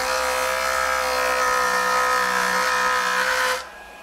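A JoolTool rotary abrasive tool runs at full speed while smoothing a metal workpiece, giving a steady, loud, high-pitched whine that holds evenly for about three and a half seconds before cutting off.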